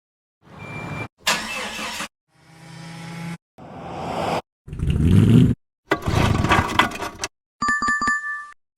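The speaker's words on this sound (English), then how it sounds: "Sound is boat motor" A boat motor runs in several separate loud bursts, rumbling and roaring up close, and a bright electronic chime closes the sequence.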